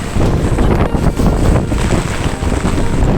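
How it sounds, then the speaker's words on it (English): Strong wind buffets the microphone in a constant, loud rumbling roar with gusty surges throughout. "It's windy out"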